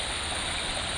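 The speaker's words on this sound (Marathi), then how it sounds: "इथे एक वॉटरफॉल छोटंसं आहे बट छान आहे" A small waterfall at Karnala Fort, pouring as a constant, close hiss of falling water, heard alone for a moment.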